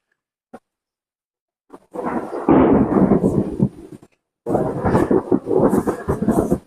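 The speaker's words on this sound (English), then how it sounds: "Oh, that's lightning real close." Thunder from close lightning during a storm, a faint crack followed by two long, loud rolling rumbles separated by a short pause, with no voices.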